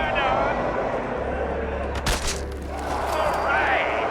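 Fireworks go off in a Fallout 76 video game arena, with a loud low rumble, a sharp crackling burst midway and further booming bursts after it.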